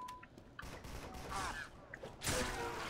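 Gunfire in the Team Fortress 2 video game: a few quick shots and bursts, fairly faint, closing with a louder blast, and no speech over them.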